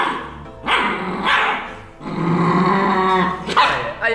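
A pack of about ten dogs fighting fiercely over four whole chickens and twenty eggs: loud, close snarling, growling and sharp barks that overlap in near-continuous bursts.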